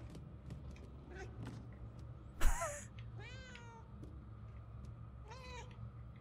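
A cat in the game Murdered: Soul Suspect gives two distinct meows a few seconds apart, among faint creaks, a sharp knock, and soft ambient clicks.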